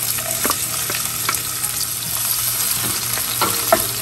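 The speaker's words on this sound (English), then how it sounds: "The oil has been heating for a few minutes now, and now I'll add this onion that I have" Chopped onion drops into hot oil for butter chicken and crackles in a loud, close sizzle, with sharp spatula scrapes and taps against the pan at intervals and no voice.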